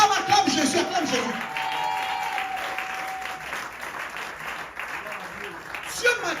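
Church congregation applauding and cheering to acclaim Jesus during a Sunday service, a steady wash of clapping and voices from the crowd throughout, with a brief raised shout near the end.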